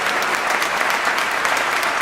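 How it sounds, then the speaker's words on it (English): Sustained applause from an audience honouring a Jamaican social business group, dense steady clapping throughout with no gaps, close and fairly loud. "I'm going to give them the applause"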